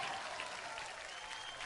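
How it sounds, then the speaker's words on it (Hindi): Audience applause fills a hall at an award show, a dense, even wash of clapping that carries on steadily without a break, with no voices standing out. "परिणीति के लिए एक बार जोरदार तालियां हो गए।"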